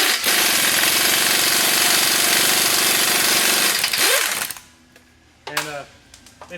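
Impact wrench rattles loudly and continuously on the large nut of a Jeep JK drag link during a suspension install, then stops and gives way to quieter garage sounds and brief clanks.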